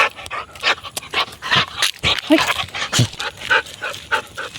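Close dog panting in quick breathy bursts with soft whimpers mixed in, heard on a rainy day with faint background noise.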